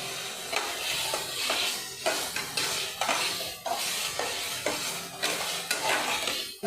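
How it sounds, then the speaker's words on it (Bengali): Green peas stir-fried with salt in a pan for paneer matar, repeated scraping strokes of a spoon against the pan over a soft constant sizzle, close and rhythmic. "মটরগুলো একটু ভালো করে কষিয়ে নিব।"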